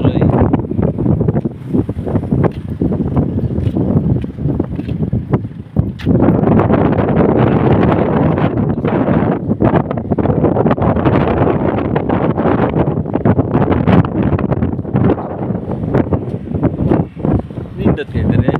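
Wind roars and buffets steadily against the microphone for the whole stretch, a loud low rumble with gusty fluctuations.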